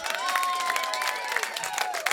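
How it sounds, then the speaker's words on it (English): An audience applauds and cheers as an MC is welcomed onstage at an afternoon show, a short burst of clapping mixed with whoops and a high whistle-like cry, moderately loud and fairly close. "Loud claps and cheers."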